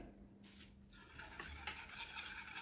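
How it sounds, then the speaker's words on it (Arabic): Dessert cream mixed with melted chocolate and juice is stirred in a bowl, giving soft, faint scraping and swishing strokes that fall into a loose rhythm, with no voices over them. "ونخلط مليح"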